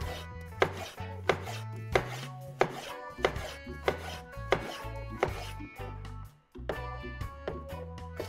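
Knife chopping a seeded tomato on a board while making a salad, a steady series of crisp, evenly spaced cuts close by with background music underneath.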